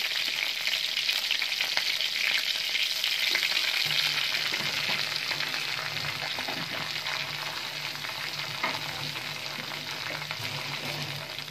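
Onion frying in hot oil in a kadai gives a steady, continuous close sizzle that crackles evenly throughout.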